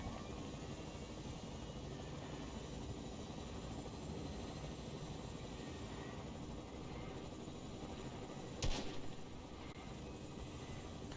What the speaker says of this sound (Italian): Potremmo prendere l'elicottero, no?